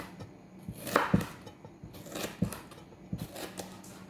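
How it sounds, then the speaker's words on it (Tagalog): Vegetables such as bell pepper, white onion and tomato being chopped on a board for a garden salad, a handful of irregular close knife chops, fairly quiet against a soft background. "So ikakat natin ngayon."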